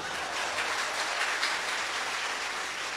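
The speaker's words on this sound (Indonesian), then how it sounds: "Ini tepuk tangan apa?" Church congregation applause at an anniversary service, dense continuous clapping from many hands filling the room evenly for several seconds with no speech over it.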